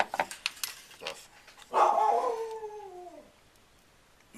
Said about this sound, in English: And that's my old dog.